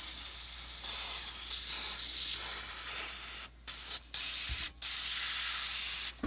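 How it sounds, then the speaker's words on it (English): A steady, loud hiss of an aerosol spray can spraying continuously, with a few brief pauses near the end. "I'm just going to spray it really"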